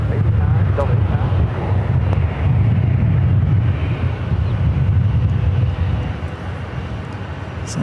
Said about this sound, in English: Delta 8961 RNF, Del Rey, runway 24 left, clear for takeoff